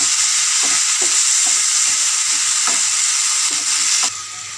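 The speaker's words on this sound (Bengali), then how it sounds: "নুন, আদা আর কাঁচা লঙ্কা বেটে রেখেছিলাম সেটা দিলাম, দিয়ে এবার একটু কষে নিচ্ছি" Ginger and green chilli paste with salt fries in a pan, a loud steady sizzle broken by regular scraping stirs, until the frying noise suddenly drops away near the end.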